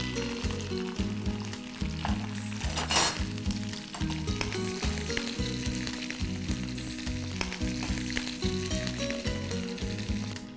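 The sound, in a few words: green chillies frying and sizzling in a pan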